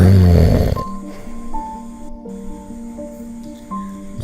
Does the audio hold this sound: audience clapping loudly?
no